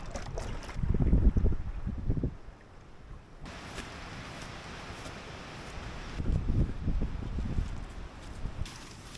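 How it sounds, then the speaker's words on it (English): Gusty late-fall wind buffets the microphone in low rumbling bursts, rising, easing off, then surging again over an open lake in the Boundary Waters. "Seems like it gets a bit more windy over there once it gets more open water"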